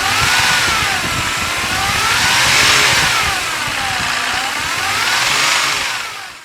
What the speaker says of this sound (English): as the RPMs go up, you get this whining sound